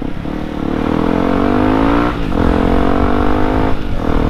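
A Yamaha WR155R motorcycle engine revs hard on a dyno, loud and close, rising in pitch in steady pulls with brief drops between them.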